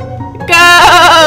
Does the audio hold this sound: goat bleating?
yes